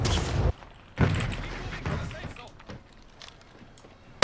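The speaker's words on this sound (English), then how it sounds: "We're gonna go ahead and pop some shots at this guy." Gunfire in a shooter video game set in a World War era with an STG and MP40 loadout: a few sharp bursts of shots, loud at the start and around one second in, under ongoing game noise.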